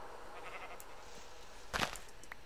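A single short sheep bleat in the video game Minecraft, sounding about two-thirds of the way through over a quiet background hum.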